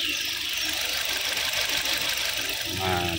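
A Suzuki Ertiga engine idles steadily up close with a constant mechanical hum and a faint whine, as the car has trouble shifting gears while the engine runs.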